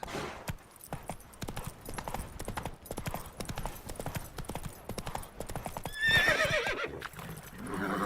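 Hoofbeats of a horse in The Witcher 3 video game, a steady rapid clip-clop of galloping close by, then a loud neigh and whinny near the end, with game sound and music underneath.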